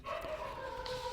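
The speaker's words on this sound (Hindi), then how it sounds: "ये देखिए कुत्ता भौंकने लगा" A dog somewhere nearby lets out a short, yelping bark, brief and moderately faint against a quiet room background.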